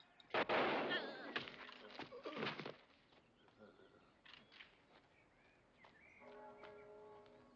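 A rifle volley fires at once as one loud, close crack that quickly decays into fading rumbles, followed by quieter sounds and a faint tonal hum.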